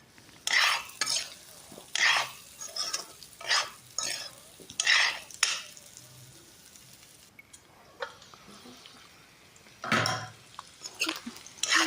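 Pork pieces cooking in a pan with a lid in an Assamese home kitchen, repeated bursts of stirring and scraping with a soft sizzle between them, close and without talk.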